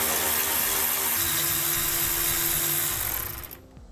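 A power tool spins off 13 millimeter bolts from the factory bumper hitch bracket behind the license plate of a 2015 Chevrolet Silverado 2500, a loud, close, high whine that runs for a few seconds and then stops abruptly.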